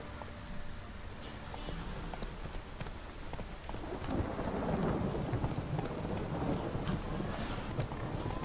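Steady rain patters and hisses in a Witcher 3 game scene while distant thunder rolls underneath, growing fuller and louder midway, with faint hoof clops mixed into the storm.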